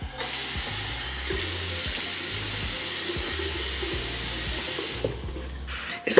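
Tap water runs steadily into a bathroom sink while someone splashes and washes their face, a continuous close rushing with small splashes, easing off near the end.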